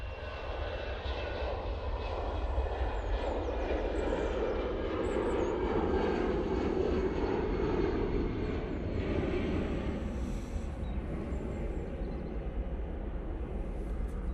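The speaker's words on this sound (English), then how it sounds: "EasyJet's going off to Rome now. Using the A320 CEO for this flight." An EasyJet Airbus A320ceo jet taking off, a strong rumbling engine roar that swells toward the middle and stays loud and steady throughout, with no voices over it.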